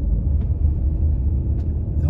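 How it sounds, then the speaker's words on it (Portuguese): A car goes by on a city avenue in Natal's south zone, a steady, fairly loud low road rumble that holds throughout with no clear swell or fade. "Deixa eu encostar aqui pro carro passar."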